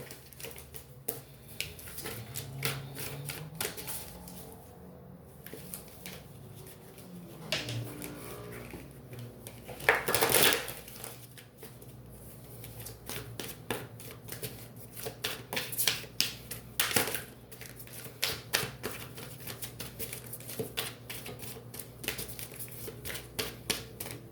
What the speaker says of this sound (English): So let's pull some tarot.